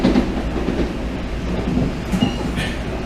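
A Montreal commuter train on the Deux-Montagnes line, heard from inside as a steady loud rumble with wheel clatter on the rails and a faint squeal near the end, no talking.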